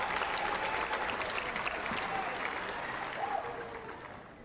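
Home crowd at a London 2012 Paralympic wheelchair tennis match clapping steadily, a fairly loud spread of applause that gradually fades out toward the end.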